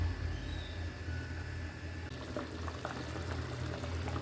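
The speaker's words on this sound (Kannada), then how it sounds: "ನೋಡಿ, ಕುದೀತಾ ಇದೆ ಅಲ್ವಾ" Bean rice bath mixture bubbling in an open pressure cooker: a steady, close watery simmer with soft popping bubbles and a faint low rumble, continuous throughout with no talking.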